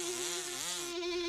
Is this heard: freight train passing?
no